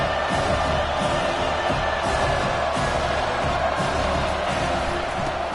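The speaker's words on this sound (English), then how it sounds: "This crowd bringing the energy and noise early" Dense, steady roar of a large stadium crowd at a Purdue football game, loud and continuous, with scattered shouts and cheers rising out of the mass of voices.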